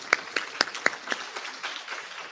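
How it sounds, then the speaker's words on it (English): A small round of applause for a newly named resident moderator at an event marking the International Day for the Elimination of Violence against Women, a few distinct sharp claps at first that soften into scattered, thinning clapping. "Can you give her a round of applause"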